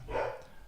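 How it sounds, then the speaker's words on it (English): A dog gives a single short bark at moderate distance, with a brief burst followed by quiet room tone. "That's the dog making a comment on"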